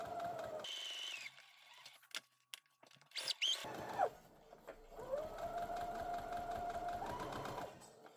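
A sewing machine stitches a neck support pillow in short runs, whirring steadily, pausing with small clicks and handling noises, then starting up again. It is fairly quiet and close by, with no talking.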